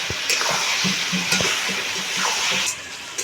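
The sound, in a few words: chicken meat frying with spices in a pan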